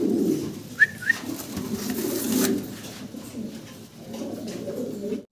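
A pair of large Andalusian-coloured pigeons coo nearby, low throaty rolling calls running almost continuously, with a couple of short sharp whistle-like chirps early on and a brief pause before the cooing resumes.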